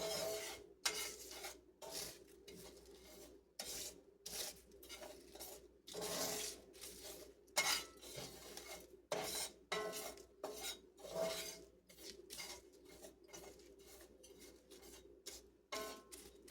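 Garam masala spices stirred and scraped in a cast iron skillet over medium heat, with dry rasping and rubbing strokes and light metallic clinks in an uneven, steady rhythm, close and moderately loud, without talk.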